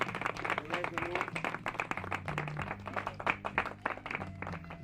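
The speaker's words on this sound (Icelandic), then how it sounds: "Skulum klappa fyrir þeim." A small audience claps in a quick, continuous patter of individual hand claps, fairly faint and steady for several seconds, with voices murmuring underneath.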